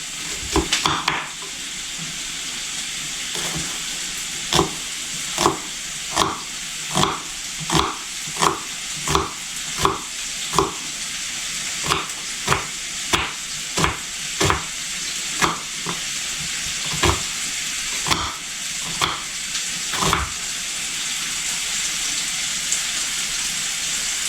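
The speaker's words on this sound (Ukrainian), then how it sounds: "Смажується, додаємо цибульку та підсмажимо до золотавого кольору." Pork cracklings and onion fry in a pan with a continuous sizzle, broken by a steady series of sharp clicks and pops as the pieces are stirred or spit, close and clear with no talk.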